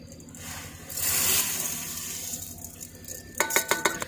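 A spoon stirs sugar into water in a pot on the stove for syrup, with soft swishing and scraping, then a quick run of sharp metallic clinks against the pot near the end; no talking.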